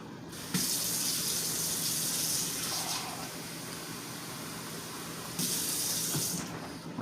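Water runs from a tap in two bursts, a steady rushing splash with a quieter trickle between them, close by and without any talking.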